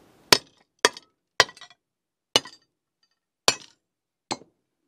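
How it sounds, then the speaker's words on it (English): Hammer blows smashing a Garmin Nuvi 3597 LMT GPS unit, six sharp separate cracking impacts with glassy clinks and small debris rattles, loud and close, no talking. "I can't finish the video without using my hammer"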